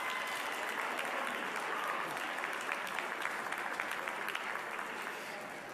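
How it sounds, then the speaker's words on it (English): A round of applause at a DeKalb County school board business meeting, honoring students; a full room claps in a thick, continuous wash that tapers slightly near the end. "Give them a round of applause."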